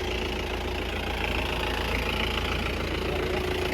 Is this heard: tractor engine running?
yes